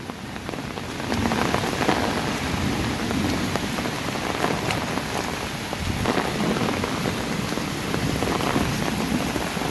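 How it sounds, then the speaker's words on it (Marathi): Sudden heavy first rain of the season pours down steadily, a dense, continuous hiss of drops drumming on surfaces, with no voices. "खूप असा पाऊस पडत आहे"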